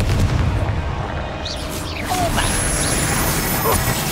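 Confringo spell blasts in Hogwarts Legacy, booming fiery explosions over a dense layer of combat noise, loud and sustained, with short whooshes and impacts scattered through.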